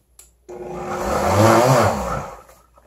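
A SCOZER HL-1979 hot and cold blender with heating function starting to run, its motor whirring up from silence, swelling louder and then easing slightly, close and alone.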